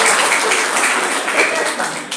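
A room full of people bursts into loud, close clapping and applause that runs dense and unbroken for a couple of seconds.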